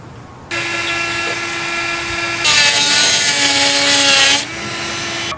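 A rotary German mill cutting into a PVC skeleton hand prop, whining at a steady high pitch, then rising to a louder, harsher grinding for about two seconds as it bites into the plastic before easing back to an idle whine.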